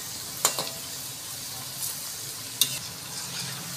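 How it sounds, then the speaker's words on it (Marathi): Pakoras frying in hot oil give a steady, moderately loud hiss of sizzling throughout, with a couple of brief sharp crackles or utensil clicks near the start and midway. "दोन्ही साईडने क्रिस्पी होईपर्यंत ही पकोडे आपल्याला तळून घ्यायचे आहेत।"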